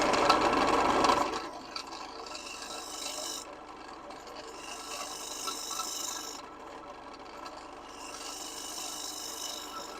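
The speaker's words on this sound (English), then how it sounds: "sand those sharp edges" A turned wooden bowl has its sharp edges sanded on a lathe, giving a steady close rasping rub that stops briefly and starts again, with a louder burst at the beginning.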